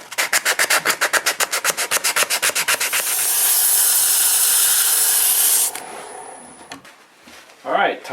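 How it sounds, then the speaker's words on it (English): Rhythmic back-and-forth sandpaper strokes on a spinning wood-turned piece, rubbing its base and wings on a lathe, then a steady continuous sanding hiss; it cuts off and fades to quiet handling near the end. "So I'm going to do a little preliminary sanding on the base and on the wings."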